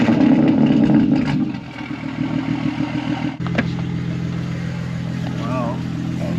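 A 2021 BMW M4 G82 Competition, tuned to 800 horsepower and running ethanol fuel, rumbles with a steady low engine drone from inside the car during a ride-along, while people talk over it.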